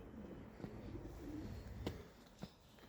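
Quiet cooing of a racing pigeon, a Vercammen x Hooymans breeding bird, with a few soft coos and faint bird sounds over a low, steady background, no talking.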